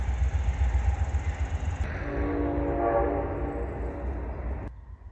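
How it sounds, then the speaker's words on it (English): A train rumbles past with a continuous heavy roar that swells and then cuts off sharply, no voices. "Train's going by."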